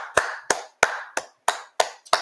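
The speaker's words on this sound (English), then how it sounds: "Round of applause to Skip." Seven sharp, close hand claps land in an even, unhurried rhythm, each one distinct and alone with no voices.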